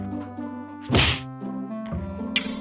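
Strikes and bomb blasts from the fighting video game Shadow Fight 2: a loud, sharp thwack with a burst of noise, then a second hard hit shortly after, over steady game music.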